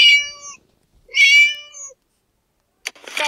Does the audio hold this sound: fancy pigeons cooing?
no